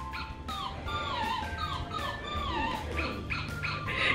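A squeaky toy dog squeezed over and over gives a steady series of high, whiny squeaks about twice a second, sitting over a constant low household background.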